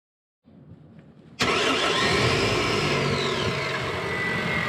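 A car engine starts once the starter wire gets battery voltage after a no-crank, no-start fault: a faint low hum, then a sudden loud catch into a steady, close running idle.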